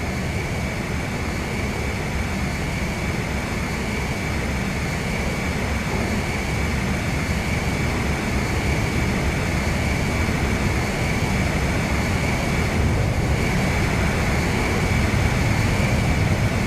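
Jet aircraft engines roar steadily during aerial refueling in the video game Ace Combat 5, a loud continuous broadband rumble and whine with no break and no voices.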